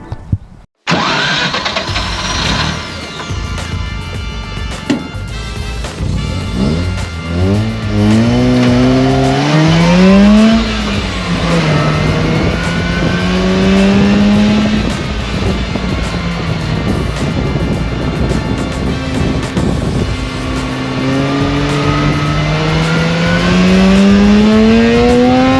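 A Mazda RX8-based MEV Exocet RX on a hot lap, its engine loud and close throughout, repeatedly revving up through the gears with rising whines and dropping on shifts, with occasional tire noise and no talk.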